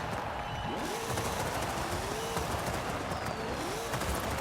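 A revving turbocharged car engine in a racing video game roars loudly and continuously, pitch sweeping up and down through gear changes, with rattling, popping bursts mixed in.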